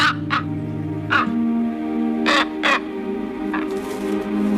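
A crow caws several times in short, harsh bursts, fairly close, with quiet gaps between calls and no other sounds.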